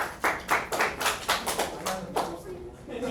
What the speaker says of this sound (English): Hey, round of applause for Charlie.